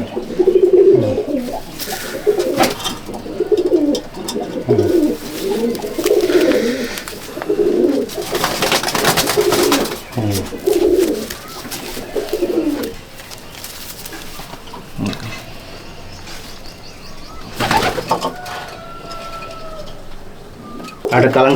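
Kalanka racing pigeons in a loft coo repeatedly in low, rolling bursts at a steady pace, close and fairly loud, while someone talks over them and some clattering movement breaks in.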